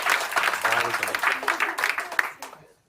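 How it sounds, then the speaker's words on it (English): A wedding reception crowd applauds with dense, steady clapping and scattered voices, fading out toward the end. "round of applause for Ben, ladies and gentlemen."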